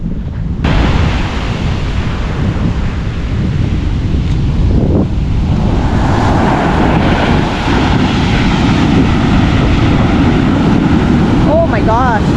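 Ocean surf crashes along the shore of Molokai island in Hawaii, a loud continuous roar heavily mixed with wind buffeting the microphone. Faint voices and a brief whistle-like sound come near the end.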